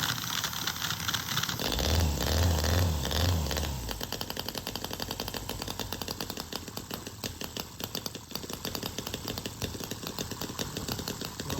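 A running miniature Harley-Davidson V-twin knucklehead model engine putters with a rapid, rattling beat, louder at first and then settling into a steady, fainter low idle nearby.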